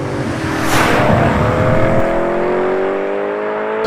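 A BMW M3 V8 engine revs hard while driving, a loud rising engine note climbing through the revs before a shift, heard from inside the car.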